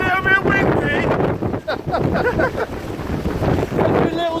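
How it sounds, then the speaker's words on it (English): Strong wind roars across a mountain summit in the Brecon Beacons, buffeting the microphone with a continuous loud rush; voices are faintly present beneath the gusts. "We're here on top of Cordu and it's slightly breezy. A little bit windy."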